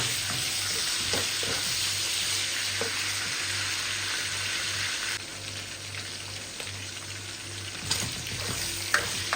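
String beans and squash sautéing in a pan, a steady hiss of frying with occasional stirring scrapes and clicks, fairly close and continuous without talk.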